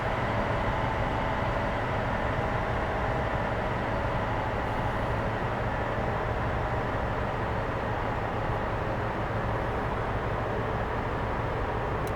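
A simulated HST diesel train from Train Simulator 2021 runs from York to London, its steady engine drone and rumbling wheels continuous and even throughout with no talk.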